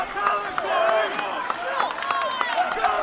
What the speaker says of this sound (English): As this crowd is pumped